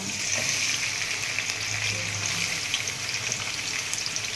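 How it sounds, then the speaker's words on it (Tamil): Onions sizzle and fry in a hot pan of oil for a chicken curry, a steady close crackling hiss with light stirring and no talk. "இப்போ நம்ம இதில் வெங்காயத்தை போட்டுடலாம். இதில் கொட்டிடுறேன்."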